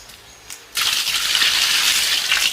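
Water poured onto garden plants, a short quiet lead-in and then a sudden steady gush and splash of liquid that continues loudly to the end.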